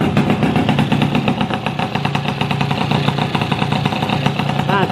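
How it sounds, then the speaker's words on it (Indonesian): A freshly repaired motorcycle engine idling loud and close in a workshop, with a steady, rapid mechanical chugging and an uneven, slightly wavering rhythm. "Nah ini teman-teman, mesinnya udah hidup."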